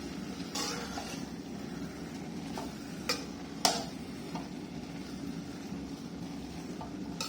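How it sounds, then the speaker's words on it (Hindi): Crushed coconut being stirred into carrot halwa (gajar ka halwa) in a pan, giving soft scraping and gentle scattered clinks of a spoon against metal over a faint, steady background. "अब इसे अच्छी तरह मिक्स कर लेंगे"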